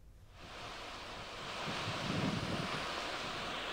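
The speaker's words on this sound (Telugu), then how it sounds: "విశాఖలో భీకర గాలులు వీస్తున్నటువంటి పరిస్థితి ఉంది" Strong winds from Cyclone Montha lash Visakhapatnam in a broad, blustery roar that swells after a quiet start and buffets the microphone, with no voices over it.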